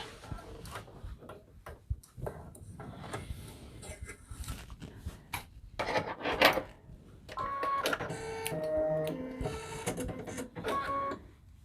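Embroidery machine stitching a handmade fleece hat, a busy mechanical rattle and tapping with whirring tones that rises louder toward the end, close and with no one talking.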